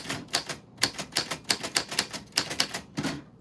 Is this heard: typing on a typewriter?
yes